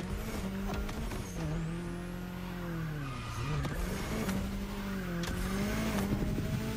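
In the racing video game The Crew Motorfest, a car brakes hard into a turn, its loud engine note dropping and rising while tires squeal and skid continuously up close.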